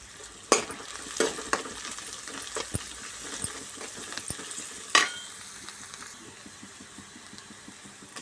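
Turmeric and ginger being stirred in a frying pan for a curry: a faint, steady sizzle broken by sharp clinks and scrapes of a spoon against the pan at irregular intervals.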